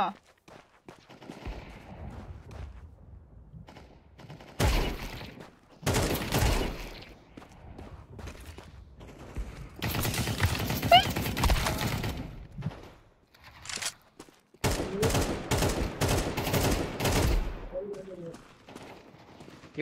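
Burst-fire gunshots in the tactical shooter game Valorant: loud, clustered volleys of cracking shots separated by quiet gaps, with voices talking in between.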